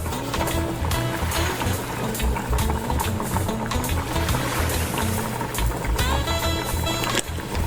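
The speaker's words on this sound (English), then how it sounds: "that rice is boiling now, and so I've trimmed that heat to low" Rice boils in a pot with a busy, continuous bubbling and hissing, steady and close throughout with no voices.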